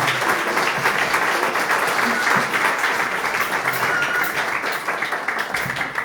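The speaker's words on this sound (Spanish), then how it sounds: "Dale un fuerte aplauso al Dios de victoria, Jesucristo." A church congregation applauding, dense continuous clapping sustained throughout at an even, loud level, with faint voices blended into the crowd noise.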